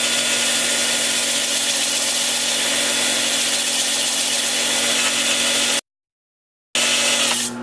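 A power sander with a hard pad and 80-grit paper works a flat 15-inch birch platter. It makes a loud, steady whirring rasp that cuts out abruptly, then restarts after a brief silence.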